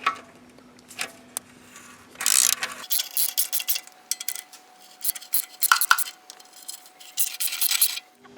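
Metal clinks and ratcheting clicks from tools working on the four bolts of the heat cover on a Peugeot 307 during an oxygen sensor replacement, in bursts with brief pauses and no talking.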